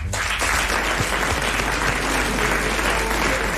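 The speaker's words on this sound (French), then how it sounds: "Vous allez applaudir Monsieur Blavier de Braine-l'Alleud." A television studio audience applauds a guest, Monsieur Blavier from Braine-l'Alleud; dense, continuous clapping starts abruptly and holds steady and loud, with a low hum beneath.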